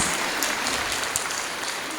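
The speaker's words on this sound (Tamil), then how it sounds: "please give them a big round of applause" An audience applauds a children's dance performance at a stage show, a dense sustained wash of many hands clapping, fairly distant and even for the whole stretch.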